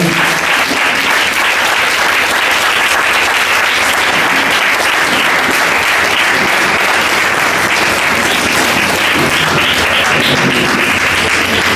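A church congregation at a Sunday meeting claps continuously, a loud, even roar of many hands sustained throughout without pause.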